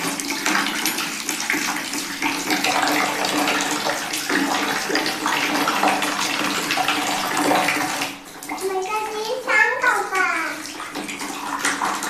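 Water pours steadily from a newly installed 1-litre instant electric geyser into a bathroom bucket or tap outlet, a continuous hiss and splash that briefly dips near the end, with a voice and someone speaking over it.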